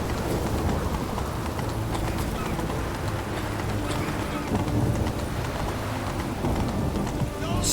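Horse hooves beat at a gallop in The Witcher 3, a dense, continuous clatter with a rain-like wash layered over it, loud and close throughout.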